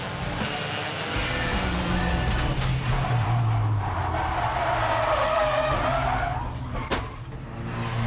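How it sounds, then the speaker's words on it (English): Porsche 944 race car in a Porsche 944 Challenge round at Sandown Raceway losing control and spinning, tires skidding with a loud sustained screech over roaring engine noise, rising then fading near the end. "But he lost control and spun, making contact with Brewer"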